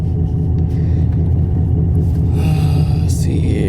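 Corvette Stingray engine gives a deep, loud, continuous rumble from inside the car as it starts a hard pull, with the tone rising toward the end.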